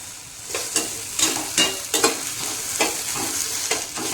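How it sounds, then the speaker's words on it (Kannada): Green chilies frying in a pan over a low gas flame, a close, steady sizzle punctuated by repeated rhythmic scrapes and taps of a spatula stirring, with no talking. "ಹಸಿಮೆಣ್ಸಿನ್ಕಾಯಿನ ಎರಡನ್ನೂ ಚೆನ್ನಾಗಿ ಹುರ್ಕೊಳ್ಳೋಣ್ರಿ"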